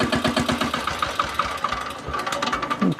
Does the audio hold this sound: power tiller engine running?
yes